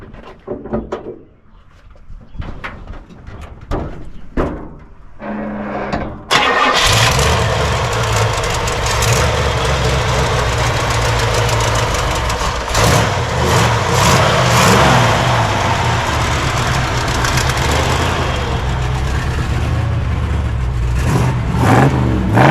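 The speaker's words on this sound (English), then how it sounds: "It's got a super nice sounding dual exhaust system on it." A 1963 Chevrolet Impala SS with a 409 engine and dual exhaust cranks after a few scattered clicks and knocks, then fires up loudly and settles into a steady, full, rumbling idle that carries on alone.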